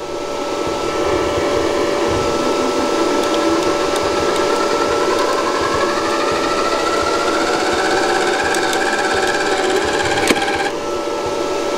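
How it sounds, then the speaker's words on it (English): MIG welding wire feeding from the spool through the gun of a small single-phase YesWelder Flux 135Pro, a steady motor whine throughout with a short sharp pop near the end as the wire clears the nozzle. "So you heard that little pop. That was it getting past this nozzle."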